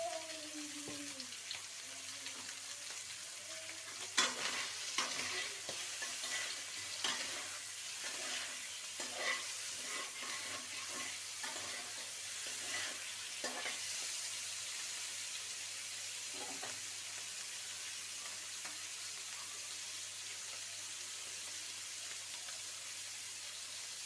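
Chicken noodles frying in a home kitchen pan, a soft continuous sizzle broken by scattered stirring scrapes, fairly quiet throughout.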